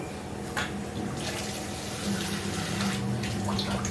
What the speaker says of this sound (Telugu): ఇప్పుడు దీంట్లో కొన్ని వాటర్ పోసి తొక్కలు చేద్దాం